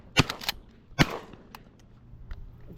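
Shotgun shots during a pigeon hunt crack out close and loud, two quick pairs of reports within the first second, followed by fainter distant pops.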